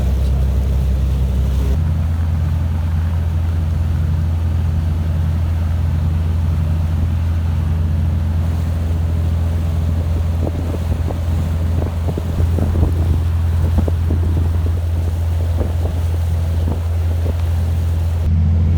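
A steady low engine drone with wind buffeting the microphone and water rushing past, as a boat moves along the River Thames in London through the Thames Barrier; no talking.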